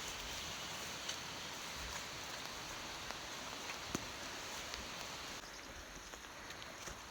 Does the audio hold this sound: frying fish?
no